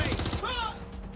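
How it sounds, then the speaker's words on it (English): Gunfire in the video game Watch Dogs: Legion, a rapid burst of close shots packed into the first half-second, then fading into steady game ambience with a sustained tone behind it. "Shots fired! Shots fired! Bastard shot me!"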